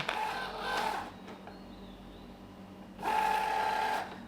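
A Cricut Joy Xtra cutting machine working through material, a moderately loud mechanical whirr in two bursts, the first about a second long and the second about a second and a half, separated by a quieter lull.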